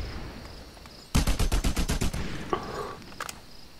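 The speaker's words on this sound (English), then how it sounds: "Assault rifle, huh?" A single rapid burst of assault rifle fire in Just Cause 2 cracks out loud and close, about a second of fast shots after a quiet start, followed by a couple of fainter pops.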